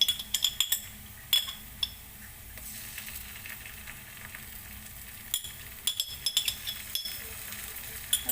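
Ginger garlic paste sautéing in a pan for okra masala gives a soft, steady sizzle, with intermittent clinks and scrapes of a utensil against the pan.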